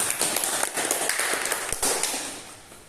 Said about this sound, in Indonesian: Tepuk tangan dulu untuk saudari Nisa Fernanda.